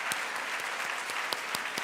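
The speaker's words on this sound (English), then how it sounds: "Can you give our panel a round of applause?" An audience at a women's leadership event applauds a panel, with a brief, steady patter of clapping heard alone at moderate distance.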